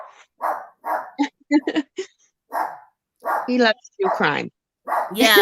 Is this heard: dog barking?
yes